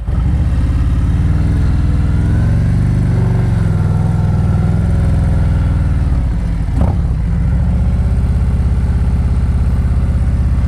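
A motorcycle engine runs steadily at low revs during slow-speed practice riding in California, a constant close rumble with slight rises and dips as the clutch is feathered, one brief mechanical knock midway.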